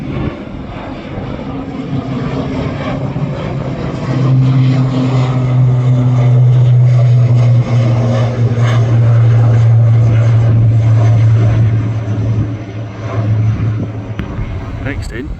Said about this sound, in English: 737 MAX TUI from London Gatwick.